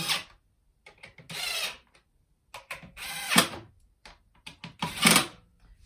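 Screws are driven into a router table insert for a Makita RT0700 router, heard as several separate bursts of close ratcheting, whirring mechanical noise with quiet pauses between them.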